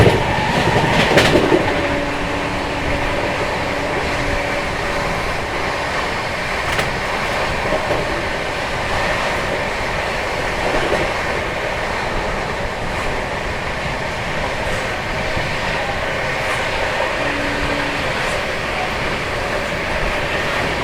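The Howrah Rajdhani express runs at speed with a continuous rushing roar and rhythmic clickety-clack of wheels over rail joints, heard from on board, with a brief horn-like tone near the start.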